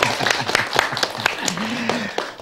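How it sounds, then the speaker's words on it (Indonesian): Thin, scattered clapping from a small studio audience on an Indonesian entertainment show, sparse individual claps rather than a full ovation, with a voice briefly sounding over it. "Boleh beri tepuk tangan yang meriah dong."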